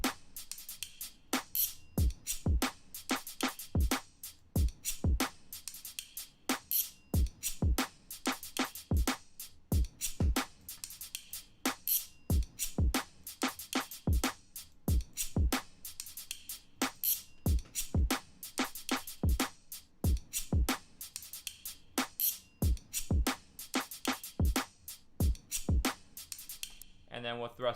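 A drum beat built from recorded sounds of forks: sharp metallic clicks and taps repeating in a steady rhythmic groove for nearly half a minute, moderately quiet, with no other instruments and no talking.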